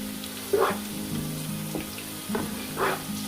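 Cloves, black pepper, cinnamon and bay leaves frying with onions in oil for chana pulao, a soft, steady sizzle with a few brief clinks and scrapes of stirring, close and quiet, no voices.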